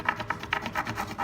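A wooden stick rubbed back and forth over a decor transfer on a tray, a quick run of about eight soft, rasping strokes in steady rhythm, close and alone.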